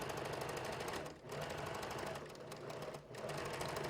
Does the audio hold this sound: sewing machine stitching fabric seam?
yes